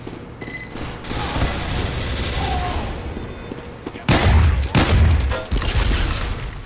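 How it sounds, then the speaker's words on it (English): Rapid gunfire and heavy blasts in Team Fortress 2 as a sentry gun is shot down, dense steady shooting that swells into loud booming bursts near the end. "Oh, stupid sentry gun's destroyed!"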